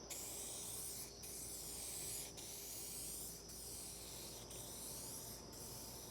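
An aerosol spray can lays down a second coat of metallic paint, producing a close, continuous hiss that runs the whole time with a few brief dips where the nozzle is released. No one speaks.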